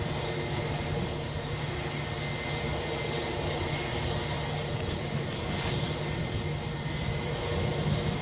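Jet airliner engine at Edinburgh airport, producing a loud, steady roar that fills the whole stretch, heard fairly close with no talking.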